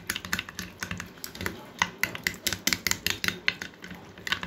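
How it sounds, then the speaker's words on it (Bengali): A spoon beats sour yogurt in a bowl with fast, steady clicking taps, close and fairly quiet, in an even rhythm throughout. "এই টক দইটাকে আমাদের খুব ভালোভাবে আগে ফেটিয়ে নিতে হবে।"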